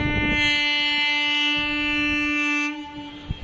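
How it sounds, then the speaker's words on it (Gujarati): A loud, sustained train horn blares over the rumble of a passing freight train at a railway station, then cuts off, leaving the rolling clatter of the wagons. "આ માલગાડી છે"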